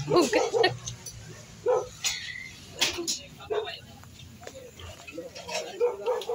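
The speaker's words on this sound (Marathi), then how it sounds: "कुत्रा" A dog barks a few times, fairly close, mixed in with ongoing conversation and background chatter at an outdoor eatery.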